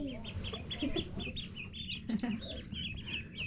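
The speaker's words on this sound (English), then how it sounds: "now we have some more ducks." Farm ducks give repeated nasal clucking calls close by, a quick rhythmic run of short squawks that overlap and continue throughout.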